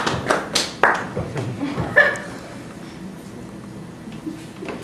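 A comedy-show audience claps in a short, scattered burst to vote that a photorealist artwork is a painting; a few loud claps stand out at first, then the applause thins out to faint stray taps.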